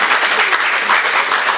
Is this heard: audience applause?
yes